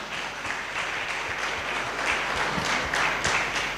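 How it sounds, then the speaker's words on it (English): Audience applause at a live conference on the first organ transplantation meeting in Tanzania, a steady dense clapping that fills the whole moment, fairly even and continuous with slight swells, no speech over it. "A round of applause."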